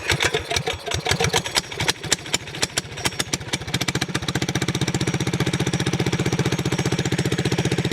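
A Briggs & Stratton engine on a mini trike is pulled over with a few irregular chugs, then catches and settles into a loud, rapid, steady close-up putter that continues to the end.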